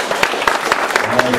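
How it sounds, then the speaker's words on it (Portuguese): Rhythmic clapping from a church congregation welcoming a visiting pastor in Paris, with brief sharp claps at a steady beat and voices mixed in. "Salva de palmas, esse pastor bonito, né, gente?"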